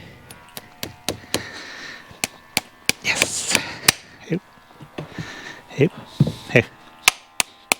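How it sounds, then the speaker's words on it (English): Sharp metallic hammer blows drive a nail through a horseshoe into a horse's hoof during a first shoeing, a dozen or so spaced strikes ringing out close by with brief scuffling and a short spoken word between them. "let's see if we can get a nail on this side"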